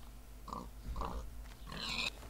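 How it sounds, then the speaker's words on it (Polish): Pig grunting in Minecraft, a few short soft grunts and squeals over a faint low background, quiet and close. "Zabić świnie."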